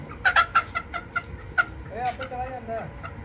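A rooster and a small hen cluck in short, close bursts, a quick series of sharp clucks followed by softer drawn-out calls.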